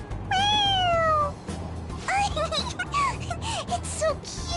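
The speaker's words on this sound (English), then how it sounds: "It meows when you press on its head." A toy cat from Persona 5 Royal gives one clear, drawn-out meow when pressed on its head, followed by excited character voices talking over the game soundtrack.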